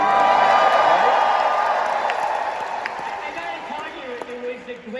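Fans in a large D23 Expo hall cheer and applaud. A loud, dense wash of crowd noise starts at full strength and then slowly thins out. A few whoops rise above it.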